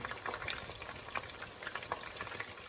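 Battered fish deep frying in hot oil, flour-and-egg batter bubbling, gives a steady, soft bubbling hiss with faint crackles, fairly quiet and without talk.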